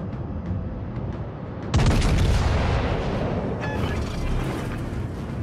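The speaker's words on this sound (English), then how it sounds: "Concentrate fire on the enemy warship." Heavy naval gunfire from a warship in the video game World of Warships: Legends, a steady low rumble that jumps into a loud booming blast partway through, with a second sharper shot near the end and no voices.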